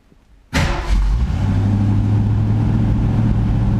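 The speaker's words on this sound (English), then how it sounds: "as soon as we start the engine, that light should turn off." A 1965 Ford Mustang fastback engine cranks and fires after brief silence, catching with a sharp burst and settling into a loud, steady, rumbling idle close by.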